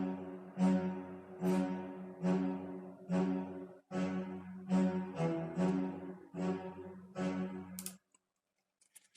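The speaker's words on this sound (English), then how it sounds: "Next thing I did was I went with this choir sound here, which I kind of like." Processed choir sample rings out in a series of about ten sustained, evenly spaced chord swells, each with a bright attack and rich harmonic body, ending abruptly before a short silence.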